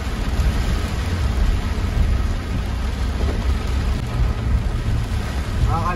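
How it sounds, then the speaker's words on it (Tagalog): Heavy rain pounds on a car while it is being driven, a dense, loud, unbroken roar of drumming water and road noise filling the cabin throughout. "Ganyan po yan, sobrang lakas ng ulan."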